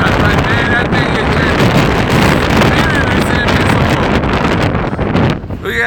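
Strong wind gusting at 56 mph, loud buffeting roar across the microphone that stays dense and continuous, easing only slightly at the very end.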